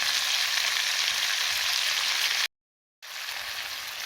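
Fish sautéing in a frying pan gives a loud, steady broadband sizzle that runs continuously, cuts to silence for about half a second, then resumes just as strongly.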